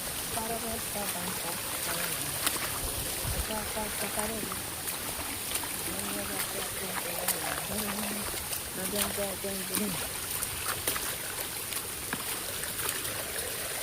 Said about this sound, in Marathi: पाणी उडतं ना रे पाठी